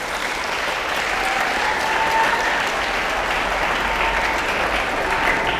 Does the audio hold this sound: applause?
yes